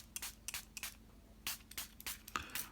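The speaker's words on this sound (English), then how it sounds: "I'm going to spray it again underneath the wave." Quick, soft spritzes from a spray diffuser misting water onto watercolour paper, a dozen or so short hissing bursts in irregular clusters, close and quiet.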